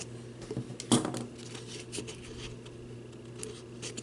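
Scissors snip once through a paper party cup link, a single crisp cut up close amid faint paper rustling in a quiet room.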